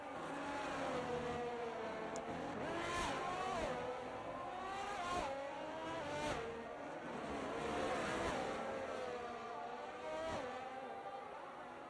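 Engine whine of Formula 1 style race cars in a racing video game at Bahrain, a steady high droning roar with repeated pitch sweeps as cars shift and pass, continuous throughout.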